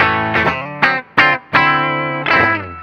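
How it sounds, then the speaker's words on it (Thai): A Gusta GST 07 electric guitar on its humbucker pickup through heavy distortion, with a handful of sustained chords struck in short bursts and a few brief gaps, thick and loud with no talk. "ตัดเป็นฮัมนะครับ"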